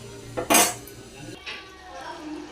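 Metal lid set onto a cooking pot of anchovy fish curry, a sharp bright clang with a ringing clatter, followed by a softer metallic knock and faint kitchen noise.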